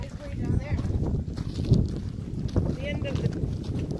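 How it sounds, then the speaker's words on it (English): Wind blowing on a hiking trail near the Donner Tunnels, buffeting the microphone as low rumbling gusts throughout, while people talk over it. "It's really windy"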